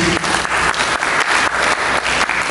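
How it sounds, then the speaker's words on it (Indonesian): A church congregation claps together in steady, dense applause during a worship service, loud and close, with no talk over it. "Mari kita berikan tepuk tangan bagi Yesus."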